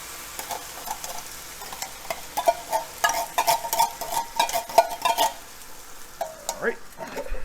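Ground beef cooking in a pan with a can of original Rotel tomatoes stirred in, giving a soft sizzle with scraping and stirring clatter from a utensil at close range.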